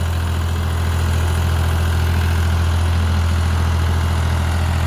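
A 50 hp tractor engine runs steadily at idle in first gear, giving a constant loud low rumble with even vibration and no talk over it.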